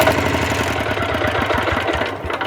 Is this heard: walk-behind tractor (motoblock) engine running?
yes